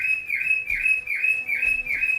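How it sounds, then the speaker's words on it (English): A Valheim bird alarm repeats steady whistling chirps about every half second, shrill and clear against a quiet background, with no talk. "Bird alarm."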